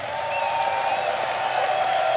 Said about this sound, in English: Royal Arena, can we get a round of applause for Cloud9 and No One,